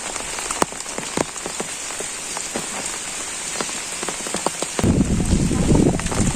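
Steady rain patters on a surface in a wetland village with sharper drips scattered throughout, growing heavier and louder in the final seconds.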